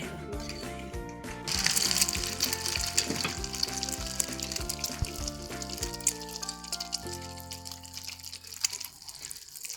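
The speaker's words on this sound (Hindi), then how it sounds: "घी भी हमारा गर्म हो चुका है। अब इनको फ्राई करना है।" Shami kabab patties dipped in beaten egg sizzle and crackle steadily in hot ghee in a pan, loud and close, with occasional scraping and stirring clinks.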